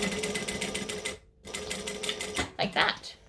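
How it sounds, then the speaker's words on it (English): A sewing machine stitches accent pieces onto fabric in a rapid, rhythmic close-up whir that briefly pauses and then resumes, with a voice talking over it. "But I'm just stitching on the accent bits."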